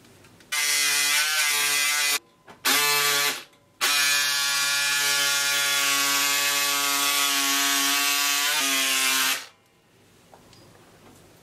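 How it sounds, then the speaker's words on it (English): Scissors cutting fabric for a peplum blouse, a loud close steady rasping sound in long continuous runs with a couple of short breaks, ending in quiet. "I'm cutting out the back neckline."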